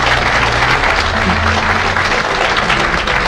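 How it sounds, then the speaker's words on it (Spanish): Applause from a church congregation at a testimony gathering, a dense steady wash of many hands clapping throughout, loud and continuous with no voices breaking through. "Si le va a aplaudir, apláudale con todo su corazón"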